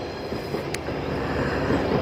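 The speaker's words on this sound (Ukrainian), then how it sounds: "Е, чути, поїзд їде." Rail traffic on a newly built railway near Rakhiv in the Carpathian mountains gives a steady, moderately distant rumble of a passing train, with no voices over it.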